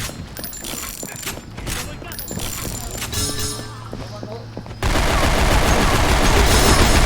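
A Springfield sniper rifle in the game Cyphers cracks out several shots among busy battle sounds and clattering effects, before the scene cuts to a dense, steady roar of noise.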